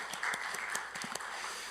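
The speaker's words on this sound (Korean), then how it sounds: "큰 박수로 샬롬 선교회 격려 박수 부탁드리겠습니다" Audience at a church vision-sharing service breaks into brief encouraging applause, a fairly faint patter of many hands clapping at a quick uneven rhythm.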